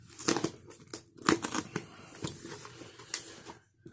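Someone cuts open an eBay package holding a bulk lot of Magic: The Gathering cards, with close, quiet snips, scrapes and crinkling plastic in irregular bursts.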